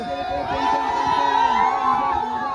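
A crowd of young people cheers and shouts at a village Holi celebration, a continuous, loud, lively mass of overlapping voices and whoops that stays close and busy from start to finish.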